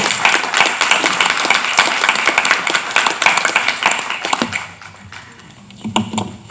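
Applause from the audience at a Florida county state delegation public meeting, a dense, loud wash of clapping for several seconds that thins out and fades near the end, with a few scattered claps and murmurs afterward.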